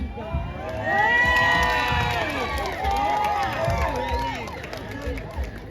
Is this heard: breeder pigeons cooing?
no